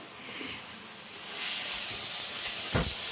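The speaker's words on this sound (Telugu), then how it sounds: "అల్లం వెల్లుల్లి పేస్ట్ వేసాం కదా, ఇది బాగా ఇలాగా పచ్చి వాసన పోయేంత వరకు వేగించి" Ginger garlic paste fries in a pan for a prawn curry, giving a steady close sizzle and hiss that swells louder partway through, with faint clinks of a utensil near the end.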